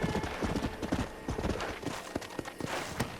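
Horse hooves clip-clop in the video game Red Dead Redemption, a steady, quick rhythm of close hoof strikes that are fairly faint, with no talking over them.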